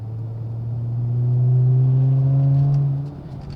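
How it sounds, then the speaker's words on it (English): A 2019 Chrysler 300S accelerating and kicking down a gear: the engine note swells and climbs steadily in pitch, holds loud, then drops back to a quieter idle-like hum near the end. "If I put it on it, it just wants a downshift, kicked it into a lower gear and go."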